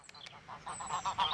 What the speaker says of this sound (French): Aujourd'hui, on dénombre seulement une cinquantaine d'oies de Touraine, identifiées et référencées.